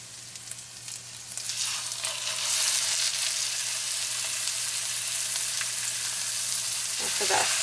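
Pork chops go into a pan of hot rosemary butter. The sizzle swells within a couple of seconds and then holds as a loud, continuous hiss close by.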